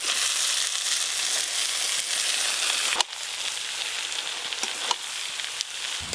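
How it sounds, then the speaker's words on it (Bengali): Fried potatoes and cabbage tip into a pan of sizzling oil and spices for a vegetarian cabbage ghonto, a steady loud frying hiss broken by a sharp drop-in thud midway, then softer crackling with occasional stirring scrapes. "এবার ভেজে রাখা আলু আর বাঁধাকপি দিয়ে দেব।"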